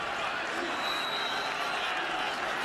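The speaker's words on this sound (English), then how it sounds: "the crowd doesn't like the call" Stadium crowd at a Louisville at Virginia college football game, 2014, reacting with displeasure to a play call: a steady, dense roar of many voices with scattered whistles and shouts throughout, loud and continuous.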